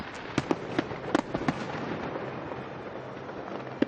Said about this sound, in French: assister à un spectacle et à un immense feu d'artifice